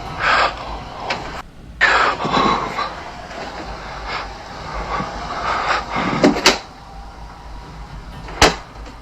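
A closet door slams during a paranormal investigation, with a sharp, loud bang late in the clip and a few softer knocks earlier, all over a steady rumbling, staticky room background.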